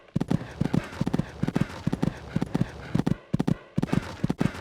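Horse hooves trotting in the Equestriad 2001 video game's cross-country riding course, a steady rhythmic clip-clop of paired footfalls, close and clear, continuing throughout with no voices.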